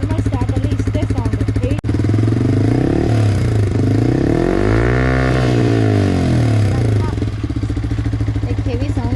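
A Yamaha MT-15 motorcycle fitted with an aftermarket silencer revs up from idle in a swelling blip and settles back, loud and close, with a steady low idle burble before and after.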